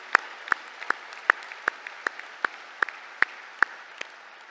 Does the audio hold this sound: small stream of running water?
no